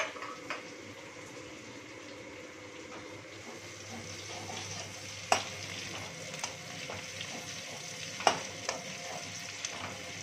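Large diced onions fry with a pinch of salt on lowered heat, a soft steady sizzle at moderate distance punctuated by occasional sharp clinks of a spoon against the pan.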